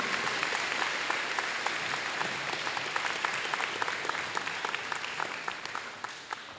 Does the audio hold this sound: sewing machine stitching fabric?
no